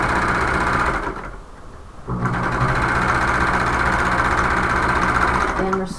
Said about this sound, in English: And we're sewing through several layers of fabric here.